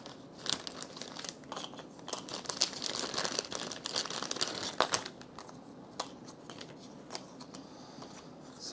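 Board game tiles are shuffled by hand, giving a busy run of clicking, rattling and scraping, denser in the middle and thinning to scattered clacks toward the end.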